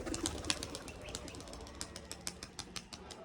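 Several pigeons flap off together, a quick close series of soft feathery wingbeats and rustles over faint outdoor ambience, with no voices.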